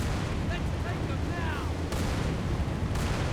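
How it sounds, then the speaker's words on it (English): Tank main cannon blasts from Halo 3 game combat aimed at Hunters, a heavy booming rumble with sharp reports near the two and three second marks, layered over dense continuous battle noise. "firing main cannons at hunters"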